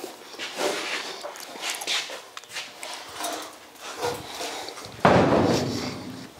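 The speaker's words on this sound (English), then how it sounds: "Didn't that door sound really good when it closed?" Scraping and handling sounds lead up to a 1951 Ford car door closing with a solid, firm thud near the end, then lingering rustle.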